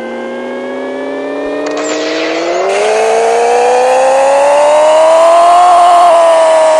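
Engine of a virtual car in the Pixel Car Racer game revving hard on a dyno, pitch climbing steadily as it winds up through the run, loud and continuous with no talking.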